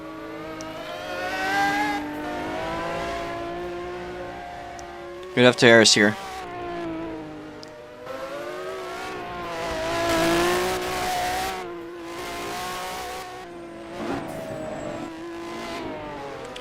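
A light race car in the fastest class runs at a Time Attack event at SNGP, its engine droning and revving steadily throughout with a brief sharp burst midway, under continuous commentary.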